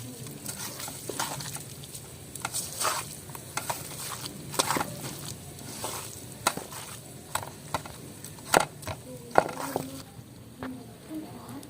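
A turnip and pea curry with garam masala being stirred in a pan, with scattered scraping clinks of the spoon and a soft sizzle, close and moderately loud.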